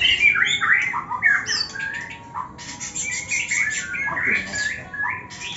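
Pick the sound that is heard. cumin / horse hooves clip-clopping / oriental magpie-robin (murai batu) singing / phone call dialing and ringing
oriental magpie-robin (murai batu) singing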